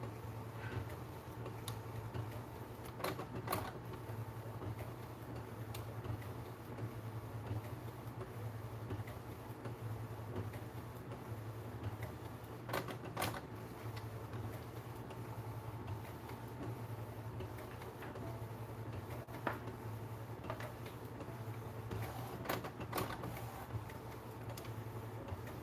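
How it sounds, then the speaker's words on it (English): An Epson EcoTank ET-8550 inkjet printer runs a DTF print job, giving a quiet, steady mechanical hum with faint ticking and occasional louder clicks and clunks from the print head and feed. "It functions fully as a DTF printer."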